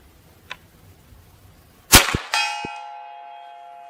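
A .50 caliber big-bore air rifle fires a round ball on low power at 50 yards: a sharp crack, then the ball smacks a steel silhouette target with a ringing clang that decays slowly, no talk.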